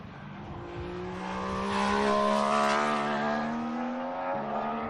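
Mercedes Formula 1 car from 2014 in Bahrain testing, its engine note rising and falling as it drives through a corner, growing louder toward the middle then easing, heard from trackside with no talking.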